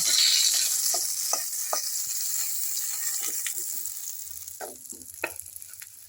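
Small charapona fish sizzling in hot oil in a pan, a steady bright crackle throughout with a few spatula scrapes and knocks against the pan.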